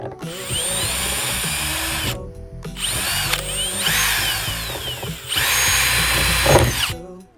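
A power drill whirring loudly and close by in three long runs separated by brief pauses, with its pitch shifting slightly as it works.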